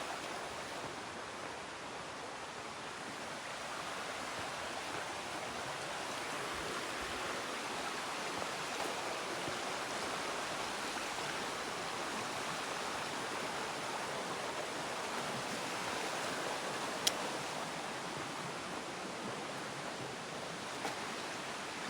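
Waterfall in a hidden forest spot in Georgia, water pouring from top to bottom in a steady, dense broadband rush that stays even and unbroken throughout, with no voices.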